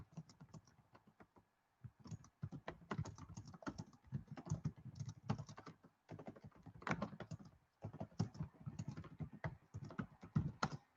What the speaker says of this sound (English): I'm gonna type it in here.